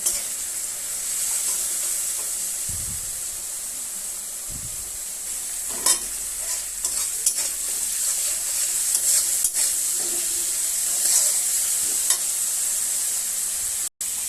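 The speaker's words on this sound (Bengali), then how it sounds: "সেই জন্য আমি মশলাটাকে ভালো করে ভেজে নিচ্ছি" Spice masala for a fish and potato curry frying and stirred in a pan, a close steady sizzle with spatula scrapes and occasional clinks, no speech.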